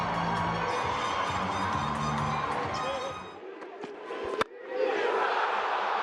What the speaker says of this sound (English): the crowd are pretty happy